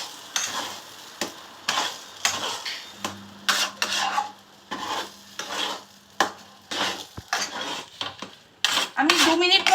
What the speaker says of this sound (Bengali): এবার আমি এটাকে হালকাভাবে একটু নেড়ে নেব।